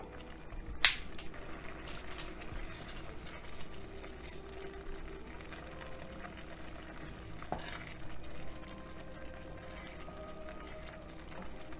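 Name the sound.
chicken piquant sauce simmering lightly in pan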